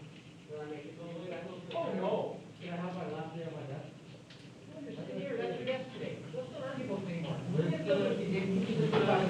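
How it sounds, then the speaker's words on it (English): A noisy class next door fills the background with a muffled babble of many overlapping voices, fairly steady and growing slightly louder toward the end. "The class next door is really loud."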